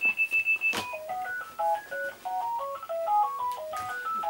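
A telephone plays an electronic ringtone of short bright beeps followed by a stepping melody of tones, fairly faint and heard alone with no talk over it.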